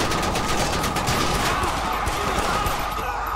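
Dense, continuous gunfire rattles through a GTA V LSPDFR police pursuit of a bus, shots packed closely together in a loud, unbroken volley.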